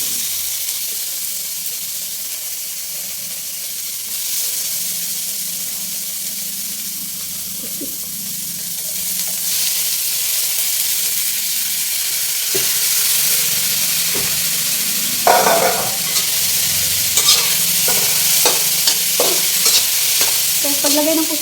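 Squid sizzling in a hot pan with tomato, a steady loud frying hiss throughout, joined later by scraping and tapping from a utensil stirring the pieces.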